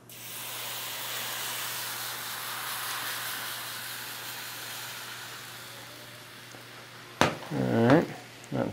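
Hash browns hitting a preheated OXO Good Grips carbon steel pan at medium-high heat: a steady soft hiss of frying for several seconds, then sharp clatter and louder sizzling as food is moved, with talk faintly present.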